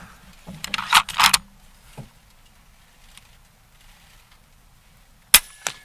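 An FX Impact MK III .35 caliber air rifle gives sharp, short metallic cracks, with a cluster of close, loud bursts early on and another sharp report near the end, separated by quiet.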